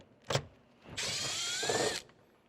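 A power tool spins out a 7mm screw on a 2015-2021 Ford Transit 150 van during side mirror replacement: a short click, then a steady one-second whirring run that stops abruptly.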